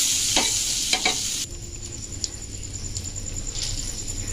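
Snack pieces fry in oil until reddish, a bright steady sizzle with a couple of quick utensil taps early on, then a quieter hiss with faint pops.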